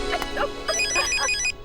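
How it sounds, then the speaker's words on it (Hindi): An electronic phone ringtone plays a quick melodic trill, close and clear, with no one speaking. "तारक का फोन है।"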